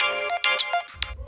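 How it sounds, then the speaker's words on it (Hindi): A mobile phone ringtone plays close and loud as a short melodic electronic tune of rising and falling notes, with no one talking. "इसका फोन भी तो यही बज रहा है।"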